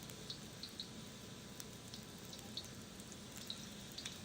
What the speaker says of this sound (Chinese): 油热后放入姜丝， 爆炒片刻。